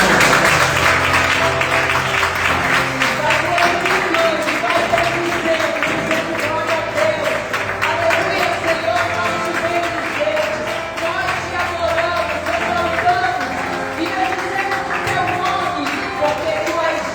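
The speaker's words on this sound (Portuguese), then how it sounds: "aplauda bem forte" A church congregation applauds loudly: dense, sustained clapping from a large crowd fills the space continuously, with music or voices carrying underneath throughout.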